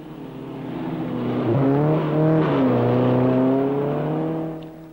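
Classic 1966 cars race off road on a dirt autocross course. One engine revs hard and close, its pitch climbing and dipping as it accelerates. The roar holds loud and steady for several seconds before easing off.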